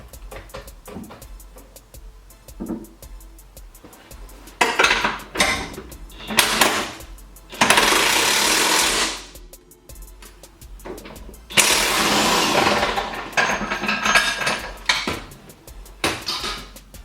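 Metal clanks and ratcheting wrench bursts from undoing the subframe bolts on a BMW X5 E70, worked one by one without a lift, with loud spells of tool noise between quieter clinks and handling.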